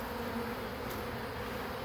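A swarm of honey bees buzzing around a hive box near a tree limb, a dense steady drone close by with no voices.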